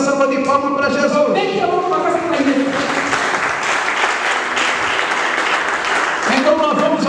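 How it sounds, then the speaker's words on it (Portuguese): Congregation in a church service applauds in a dense, sustained wash of clapping at a crusade conference in Angola, with voices calling out over it at the start and as it fades near the end. "Então dá uma linda salva de palmas para Jesus."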